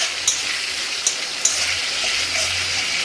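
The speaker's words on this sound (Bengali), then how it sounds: "দেখো দেখো এখানে আমি মশলাটা তেল ছেড়ে দিয়েছে, তার মানে কষানো হয়ে গেছে।" Spice paste sautéing in oil in a pan, a steady moderate sizzle with a few sharp pops and spatters scattered across it, close and with no talking.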